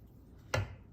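Cutters snip through jewelry wire on a simple wired frame, making one sharp, quiet click up close in an otherwise hushed room.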